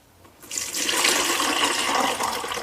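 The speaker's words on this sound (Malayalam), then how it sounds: "ഇതിലേക്ക് ഞാൻ ബാക്കി വെള്ളം അങ്ങ് ഒഴിക്കാൻ പോവാണ്" Leftover water from a decorative fish bowl, carrying fish waste, is poured into a bucket, a steady loud splashing gush that starts abruptly after a brief quiet moment and runs continuously to the end.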